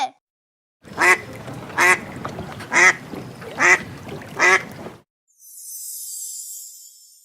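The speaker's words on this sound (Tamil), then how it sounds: "வாத்து வாத்து" Five loud, evenly spaced duck quacks ring out in a steady rhythm, followed by a faint high hiss after a short silence.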